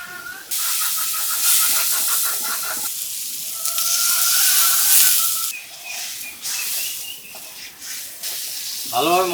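Turmeric, chili powder, salt and other spices fry with onions in a pan for a hilsa and bitter gourd curry, giving a loud, continuous close sizzle and hiss with stirring scrapes throughout.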